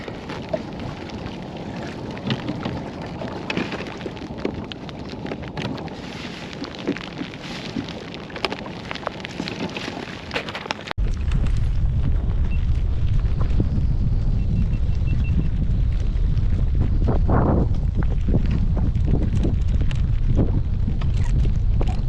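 Heavy rainstorm pelting a bass fishing boat, a steady hiss that suddenly swells into a much louder, dense roar of downpour drumming on the boat and water.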